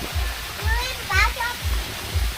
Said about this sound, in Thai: แล้วมีอะไรด้วยนี่เหมือนมีน้ำตกเนาะ